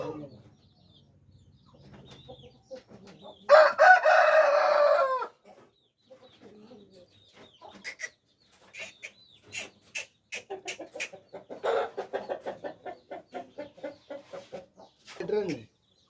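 A nearby rooster crows loudly, followed by rapid rhythmic clucking and a final squawk, with short pauses of quiet between calls.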